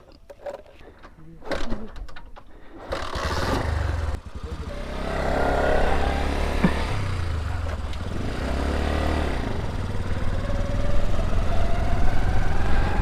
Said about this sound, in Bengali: এখন জুয়েলের লেজেন্ডারি বাইকটা একটু চালাবো।